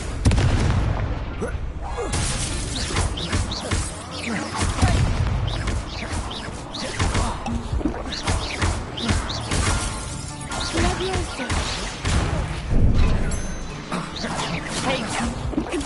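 Fiery Confringo and Incendio spell blasts in Hogwarts Legacy, a loud barrage of explosive bursts, crashes and booming impacts firing in quick, irregular succession amid combat noise.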